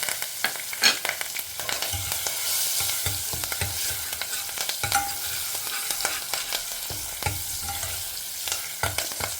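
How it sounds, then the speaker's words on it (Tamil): Asafoetida, turmeric, curry leaves and green chilies fry in hot oil, giving a steady close sizzle with frequent scraping stir strokes throughout, no voices. "பச்சை மிளகாயை நல்லாவே எண்ணெயில் பொரிய விட்டேல் அப்படின்னாக்க உங்களுக்கு அந்த எசன்ஸ் காரம் நல்லா இறங்கும்"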